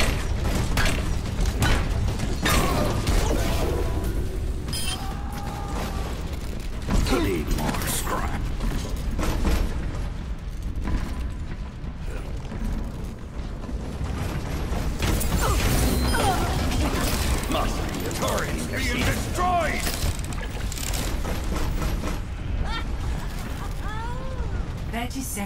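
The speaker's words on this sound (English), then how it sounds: "Turret deployed." Torbjorn's turret deploys in Overwatch amid a dense, continuous clatter of mechanical clanks, ratcheting and gunfire-like bursts that carry on for the whole stretch with almost no letup.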